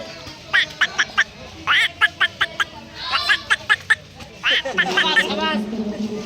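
A voice mimics a duck, giving several quick bursts of nasal quacks in a rhythmic series, with adults talking nearby.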